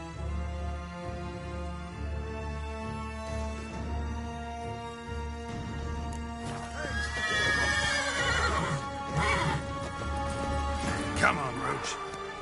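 A horse neighs and whinnies with clip-clop hooves as it gallops in The Witcher 3, layered over steady music, with a voice urging it on in the background.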